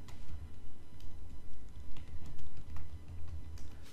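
Keys clatter on a computer keyboard as a search is typed, quick irregular taps in short bursts over a low room hum, close and fairly clear with no talking.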